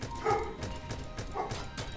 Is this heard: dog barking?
yes